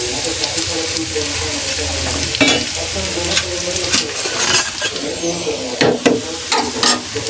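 Drumstick flower fritters fry in hot oil with a steady, loud crackling sizzle throughout, broken by occasional utensil clinks and stirring sounds.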